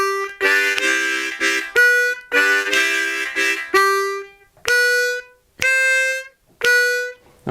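Blues harmonica plays a comping lick over the 1 chord: bright, reedy notes in short rhythmic bursts and held tones, with brief gaps between phrases, close and loud, no voice.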